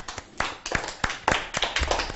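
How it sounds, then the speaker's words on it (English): A classroom of schoolchildren clapping for themselves after a reading activity, a brief burst of uneven claps, close and loud, with no talk over it. "let's clap for ourselves"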